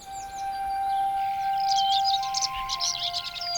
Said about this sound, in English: The dawn chorus.